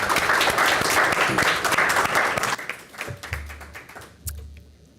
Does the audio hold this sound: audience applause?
yes